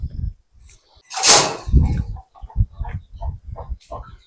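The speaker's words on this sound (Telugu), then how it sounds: "ఇప్పుడు కోళ్ళు, నాటుకోళ్ళు అనమాట." Native country chickens cluck close by on an organic farm in short broken bursts, mixed with a voice speaking and a brief scraping noise.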